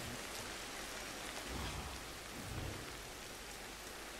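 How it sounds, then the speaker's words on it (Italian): Rainfall in the video game Ancestors: The Humankind Odyssey, a continuous broadband hiss of rain on surfaces with faint low rumbles, steady and fairly quiet throughout with no talking. "questa pioggia però rompe il cacchio in una maniera"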